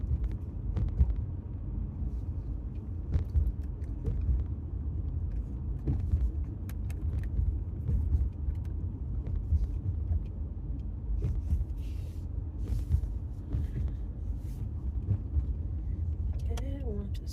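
Steady low engine and tyre rumble from a car driving down a hazy road toward Russell Gulch, continuous and fairly loud with faint wind noise and occasional small knocks inside the cabin.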